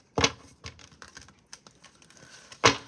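Tarot cards being shuffled and handled after a reading: scattered dry flicks and soft riffling bursts, a sharper card snap near the start and another near the end, close and fairly quiet, with no talk.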